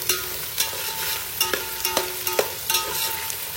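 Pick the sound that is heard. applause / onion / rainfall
onion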